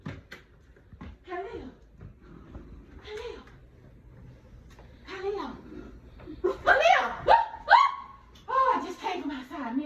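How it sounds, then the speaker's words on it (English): Dogs bark outdoors at night, scattered yips and barks that build louder and closer toward the end, with a person talking quietly between them. "Dogs"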